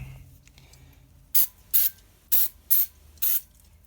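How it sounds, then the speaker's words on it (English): Brake cleaner sprays onto clutch parts in five short, sharp bursts, each about a fifth of a second, close and loud after a brief quiet stretch. "So take a little more of a brake clean."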